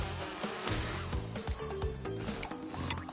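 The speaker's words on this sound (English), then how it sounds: "I'm just gonna escape those bees and run." Bees in Crash Bandicoot 2 on PS4 make a dense, continuous buzzing drone, close and steady, mixed with game music and light clicks, with no talk.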